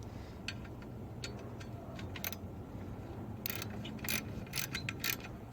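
A hand ratchet snugs down a 10mm bolt on a car engine's idler pulley and A/C belt area, giving quiet bursts of rapid clicks in short strokes, close and faint over low background hum.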